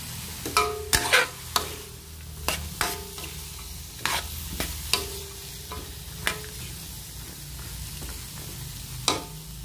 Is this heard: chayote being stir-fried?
yes